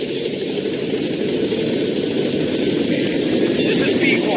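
A helicopter arrives at a landing zone in Metal Gear Solid V: The Phantom Pain, its rotor and engine roaring loud and steady throughout, close and continuous.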